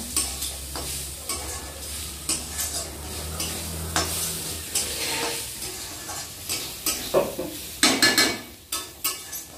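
Food fries and sizzles in a pan while a spoon stirs and scrapes it, giving repeated clinks and scraping strokes over a steady crackling hiss, close and with no talking.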